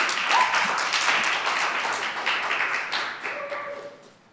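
A crowd applauds four poets at a spoken-word poetry event, a dense steady wash of clapping that slowly fades out toward the end.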